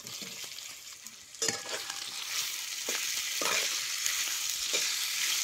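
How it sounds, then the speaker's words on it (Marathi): Chopped potatoes with crushed ginger and garlic frying in hot oil, a bright steady sizzle close up with occasional scrapes and clatters of stirring, growing slightly louder, no talking. "आता हे सगळं तेलात चांगलं भाजून घ्यायचं."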